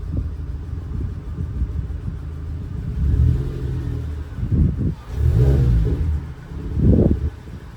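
A Suzuki Swift Sport ZC32S engine idles while warming up with a low rumble, swelling in a few brief revs before settling back, steady and close.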